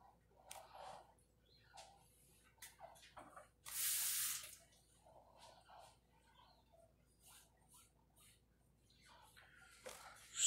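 Water poured or sprayed onto an open geode, heard as a loud hiss lasting about half a second, with faint drips, trickles and small taps before and after in an otherwise quiet space.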